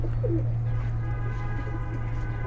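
Khulna high-flying pigeons, kept in a loft, coo softly and intermittently over a steady low mechanical hum, with no voices.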